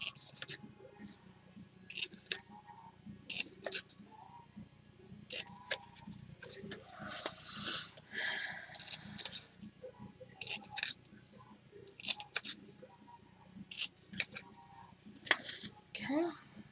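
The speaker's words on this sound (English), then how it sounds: "You're going to trim all of your boxes so that they look like that." Scissors snip through thin card as a paper favor box is trimmed, a string of short crisp cuts at close range, interspersed with paper handling and someone talking over the work.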